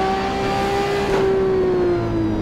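Engine of a 1977 Broadspeed Jaguar XJ12C racing in Assetto Corsa, a steady, smooth high-pitched V12 drone holding near-constant pitch at speed, slightly falling toward the end, loud and close with no talk.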